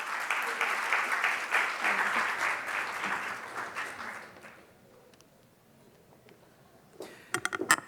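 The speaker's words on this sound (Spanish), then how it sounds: "Con un fuerte aplauso, démosle la bienvenida a nuestros panelistas" An audience at a Puerto Rico conference session gives strong applause to welcome a panel, dense clapping for about five seconds that dies away into quiet, followed by a few sharp knocks.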